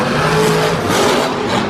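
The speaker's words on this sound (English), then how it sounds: "Next up here we have Cody Saucier in Monster Energy taking on George Belhan in Mohawk Warrior" Monster trucks race head-to-head at Monster Jam Brussels in an indoor arena, their engines producing a loud, close, continuous roar that swells briefly as they accelerate.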